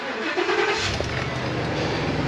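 A parked truck's engine idles steadily at close range, a low continuous rumble with a brief rise in revs near the start, alone with no voices.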